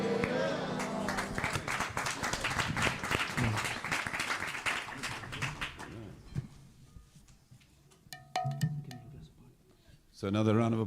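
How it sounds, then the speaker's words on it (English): Clapping from a congregation at a Sunday temple program in Coventry, strong at first and thinning out after a few seconds, with voices talking and sharp scattered noises over it, then a loud swell at the end. "So another round of applause for that."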